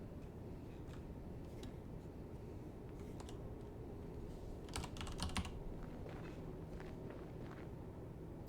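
Computer keyboard typing in a typing game rattles at a quiet, close level, scattered keystrokes building to a quick burst of clicks midway over a steady low background hum.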